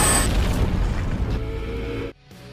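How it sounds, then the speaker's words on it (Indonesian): A film explosion from charges strapped to a man's body erupts as one heavy, loud boom with a rumbling low tail that decays, then cuts abruptly to near silence. "hingga membuat peledak yang berada di tubuh Mr. X itu pun akhirnya meledak"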